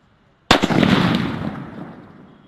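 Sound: King Kong bomb firecracker exploding, Diwali

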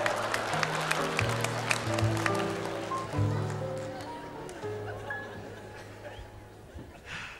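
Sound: TV studio audience applause

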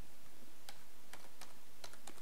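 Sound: typing a file name on a computer keyboard

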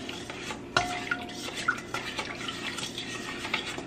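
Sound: stirring seasoning mixture

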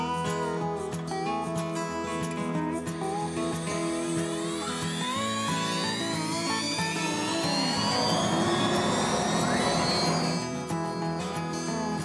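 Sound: wood router finishing cut on axe handle, 1/4-inch bit

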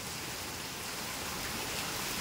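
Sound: heavy rain

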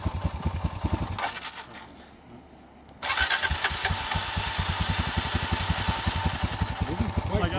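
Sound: motorcycle engine idling

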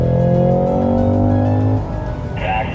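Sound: Cadillac car braking hard and cornering on a race track

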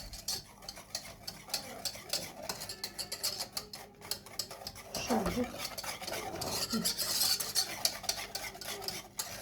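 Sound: whisking cake pudding mixture in a pot

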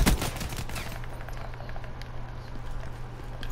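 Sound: light machine gun fire in video game Black Ops 3

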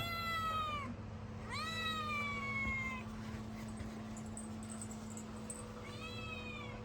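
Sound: cat meowing

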